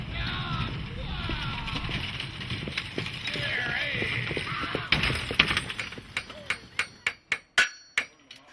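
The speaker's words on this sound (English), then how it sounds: "A blacksmith's hammer and a horse-drawn coach transports us to the days of log cabins" A run of sharp metallic blacksmith's hammer strikes rings out in steady rhythm near the end, following a stretch of murmuring crowd noise and chatter at a pioneer history center in Yosemite.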